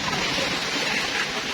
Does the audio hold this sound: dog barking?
no